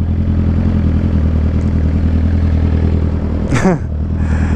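A steady motorcycle engine drones close by throughout, with a brief clattering sweep near the end as something passes.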